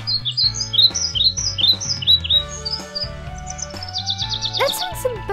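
Minecraft birds tweet in short, high repeated chirps over a soft looping tune, ending with a brief burst of faster trilling calls.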